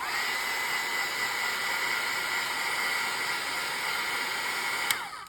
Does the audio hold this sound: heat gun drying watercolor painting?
yes